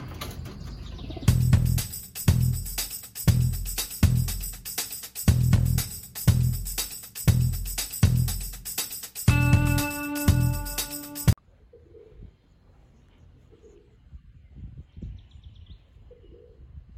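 Pigeons take off from a loft in a run of regular, loud, whooshing bursts like flapping wings, then fade to quiet with a few faint soft sounds.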